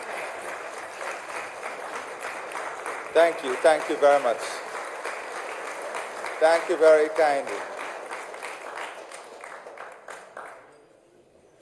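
Steady applause from a crowd, continuing under a voice speaking briefly before the clapping fades out near the end.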